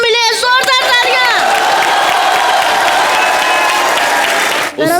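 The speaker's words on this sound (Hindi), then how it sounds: "जोरदार तालियां।" Loud, sustained applause from a large TV comedy show studio audience with cheers and whoops, continuous throughout, with a voice briefly rising over it at the start.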